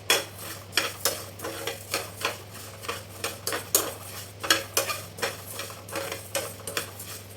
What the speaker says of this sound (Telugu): రెండు కప్పులు ధనియాలు ఒక ప్యాన్లో వేసుకుని వేపుకుందామండి